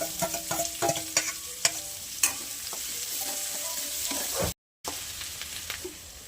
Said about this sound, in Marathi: आता आपण आहे ना कांदा टाकूया ह्याच्यात.